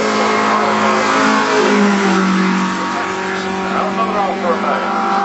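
A classic pre-1975 Alfa Romeo races up the Shelsley Walsh hillclimb, its engine revving hard and shifting pitch as it passes close by, with a voice talking over the engine.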